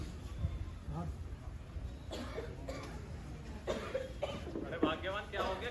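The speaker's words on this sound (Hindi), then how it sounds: "अरे भाग्यवान क्या हो गया, कैसे खांस रही है?" An elderly woman coughs repeatedly in an outdoor street play in Meerut, with several harsh, close coughs in irregular bursts and some voices in the background.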